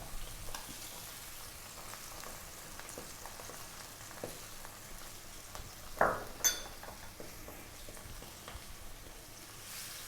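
Sweet and sour sauce with ketchup, pepper, salt and spring onion simmers in a pan with a faint, steady sizzle, broken by a couple of brief utensil clinks.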